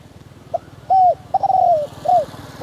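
A spotted dove coos close by, a short note followed by several drawn-out, gently falling coos in an uneven sequence over a faint low background hum.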